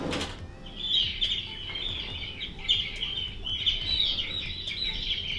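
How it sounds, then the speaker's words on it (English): Layered birdsong ambience built for a video game loop: a few birds chirping and tweeting continuously over a soft outdoor background, steady and moderately loud with no voices. "It sounds like a lot of birds, but it's just like a few birds."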